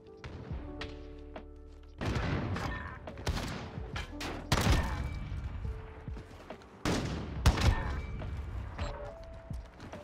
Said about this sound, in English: Headshot sound is ASMR